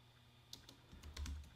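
Quiet keystrokes on a computer keyboard as a Linux command is typed, a few soft taps spread out and ending in a slightly louder cluster of presses, with no voices.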